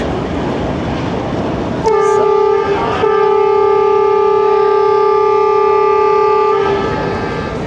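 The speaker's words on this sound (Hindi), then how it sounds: "G20 ने डिपार्चर विसल दे दी, पिंडी से रवाना होने के लिए बिल्कुल तैयार" Pakistan Railways Jaffar Express at Rawalpindi sounds a loud, steady departure horn of about five seconds, clear harmonic tone starting sharply, briefly dipping, then holding before cutting off, over station background noise.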